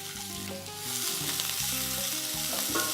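Capsicums sweating in olive oil in a pan, a dense, even sizzle running throughout with faint tonal hum underneath, no voices.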